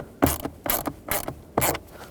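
An 8mm socket ratchet ratchets in four crisp, evenly spaced bursts while backing out blower motor screws on a 2007-2010 Chrysler Sebring, close and clear with no speech.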